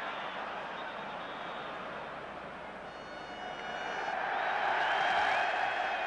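A football stadium crowd at an England match roars in a steady, distant wash of cheering and applause that swells louder toward the end, with no voices standing out.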